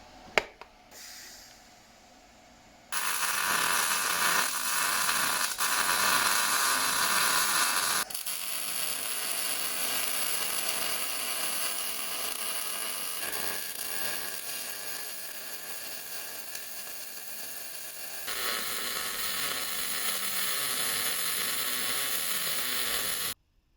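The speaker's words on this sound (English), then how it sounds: "Now you're ready to get welding." Reinforcement plates are welded onto a BMW E30 rear subframe, with long continuous crackling, hissing arc bursts that start and stop in several extended runs, close and fairly loud, with no talking.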